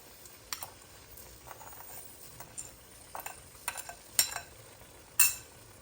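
Grated carrots being stirred and roasted in a pan for gajar halwa, faint soft frying hiss broken by scattered scraping and clinking of a spoon against the pan, growing sharper toward the end.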